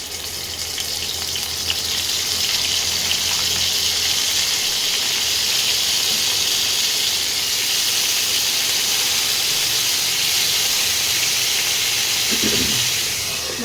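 Tangra fish, coated in turmeric, sizzle in hot oil in a frying pan, making a steady loud hiss that holds for the whole stretch, with a small clatter near the end.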